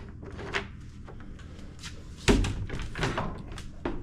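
A rebuilt vintage camper door swings open with a solid thunk of latch and hinge, then a few lighter knocks and rattles, close by with no talk over it.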